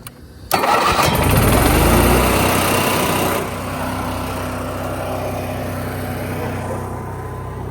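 An RV engine with a crank-no-start fault turns over on a small jump box, catches loudly and revs high, then settles into a steady, slightly lower running idle close by with no talk.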